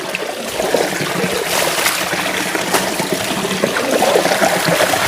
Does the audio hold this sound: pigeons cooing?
no